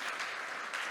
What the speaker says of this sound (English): Please give a round of applause to the panelists